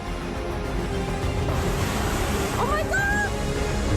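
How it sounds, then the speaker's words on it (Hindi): Swollen river floodwater after torrential rain, pouring over a bridge, a dense steady rushing roar with a few brief tonal sounds rising above it. "नदी का पानी पुल के ऊपर से बह रहा है।"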